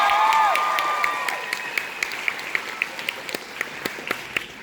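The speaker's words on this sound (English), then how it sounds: "Give them another round of applause." Fan convention crowd applauding a panel of actors, a broad roar of clapping and cheering with a whistle early on, thinning to sharp scattered claps.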